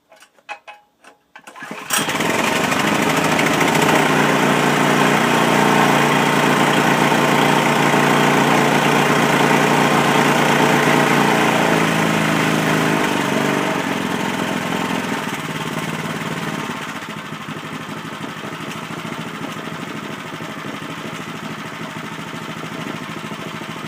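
A homemade ATV snow blower engine is primed, choked and started after sitting all year; a brief cranking sputter gives way to a loud, steady close-up idle that drops slightly in pitch near the end.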